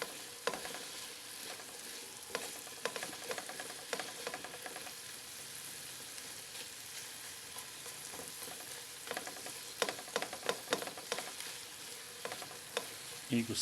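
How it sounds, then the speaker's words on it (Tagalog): Sliced onions sizzle steadily in a pan while being cooked for Filipino beefsteak, with scattered spatula scrapes and stirring clicks over a constant, close frying hiss throughout. "Lulutuin lang natin kunti guys yung ating sibuyas"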